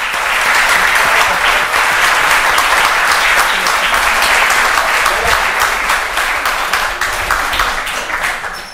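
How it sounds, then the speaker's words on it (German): Steady, loud applause from a conference audience fills the room for the full stretch, a dense wash of many hands clapping that holds evenly before easing slightly at the end. "Erst einmal Applaus für die beiden"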